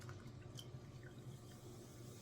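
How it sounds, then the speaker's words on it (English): Water trickles steadily as it is poured into a drink bottle in a home kitchen, a quiet continuous splashing pour with faint low background hum and no talking. "let me pour a little bit more in here"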